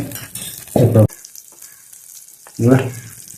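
Butter and a spoonful of oil sizzle in a frying pan. A constant hiss runs throughout, and two loud, close bursts of sizzling and stirring stand out.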